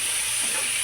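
Masala kaleji frying in a pan gives a steady, loud hiss of sizzling oil for the whole short stretch, with no voices.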